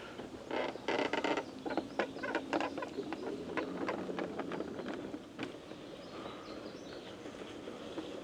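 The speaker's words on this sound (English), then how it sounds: "I'm kind of worried about that new squeaking situation." Faint, rapid squeaks and creaks come from a robotic lawn mower while it drives, clustered near the start and then thinning out over a soft background rumble, like wind on the microphone.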